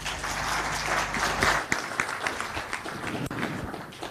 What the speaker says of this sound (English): Another round of applause, ladies and gentlemen, for our chief guest.